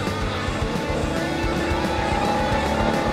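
A BMW F850GS Adventure motorcycle engine runs steadily on a road in the Montes de Málaga, Spain, a continuous rumbling drone with no talk.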